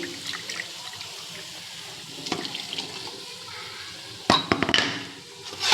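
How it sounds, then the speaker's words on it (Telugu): Water poured into a mixer jar of tomato chutney ingredients, a close splashing trickle that swells and gurgles loudly near the end, with no talk. "కొంచెం మిక్సీలో వాటర్ వేసి"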